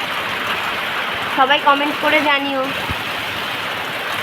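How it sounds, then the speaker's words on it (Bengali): Rain falls steadily outdoors as an even, hissing wash of sound, while someone speaks briefly over it. "তোমাদের ওখানেও কি এরকম বৃষ্টি হচ্ছে"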